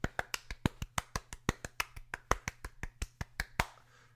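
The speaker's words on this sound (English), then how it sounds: "I clapped in a circle to be a round of applause" A single person claps alone in a steady, quick rhythm, about eighteen crisp, close claps in a row before stopping, with no talking over them.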